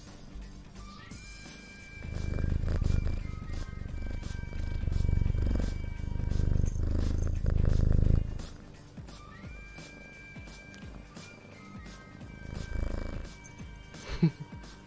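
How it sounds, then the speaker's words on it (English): A cat purrs in low rumbling bursts, close and fairly loud at first, then softer, with faint tones and small clicks around it. "Listen to the purr."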